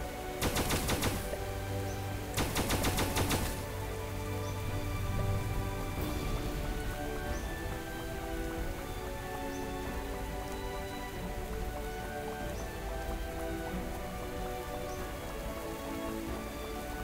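Steady rain in the video game Starbound patters across a surface with a dense, even hiss, opening with a few sharp bursts of rapid crackling before settling into constant rainfall.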